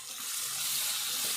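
Chicken pieces coated with salt and chili frying in a pan of tempering, giving a steady, close hiss of sizzling oil that stays even throughout.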